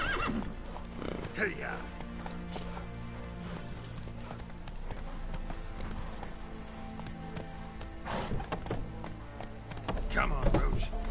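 In The Witcher: Wild Hunt, the horse Roach gallops with quick hoofbeats while loud whinnies ring out. A voice calls out to urge the horse on.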